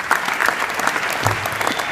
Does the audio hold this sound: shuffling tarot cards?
no